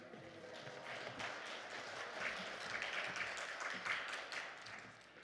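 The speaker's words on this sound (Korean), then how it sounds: "하나님께 나오실 때 박수로 환영하면서 하나님께 영광 올려드리겠습니다" A prayer-house congregation applauds to welcome the elder pastor of Mokmin Church to the pulpit, a soft, fairly distant wash of clapping that swells in the middle and tapers off.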